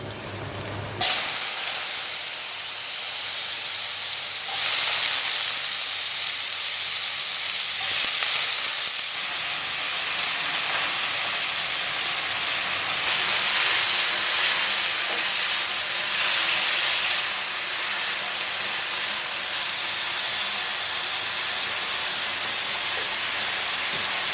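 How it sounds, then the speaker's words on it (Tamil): Mustard seeds, urad dal and cut potatoes fry in hot oil in a home kitchen, a loud, continuous close hiss and sizzle that starts abruptly and surges in places, with no talking. "எண்ணெய் நல்லா சூடாகிச்சு கடுகு உளுத்த மருப்பு சேர்த்துக்கலாம்"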